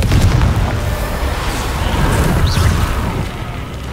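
A blasting spell explodes in Hogwarts Legacy, a deep, loud rumbling boom that sustains and rolls through the whole stretch, with layered crackling debris and no talking.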